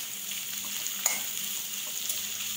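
Cabbage, carrot and capsicum stir-fry in a hot pan with a constant sizzle and a brief utensil scrape near the middle, heard up close without talk.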